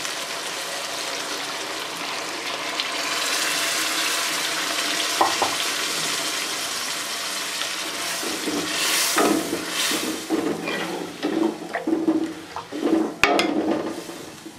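Potatoes fry in a pan for aloo adrak sabji, a soft steady sizzle with occasional stirring clatters and scrapes growing busier toward the end, nearby and moderately loud, no talking.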